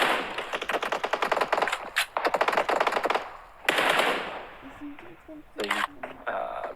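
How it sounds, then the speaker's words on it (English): Rapid automatic gunfire from a battle royale video game, dense bursts of sharp shots in quick rhythm over several seconds, with a caster's voice talking over the action and a few sparse tones near the end. "they're getting a headshot onto Cryptix."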